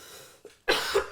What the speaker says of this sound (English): don't cough into the microphone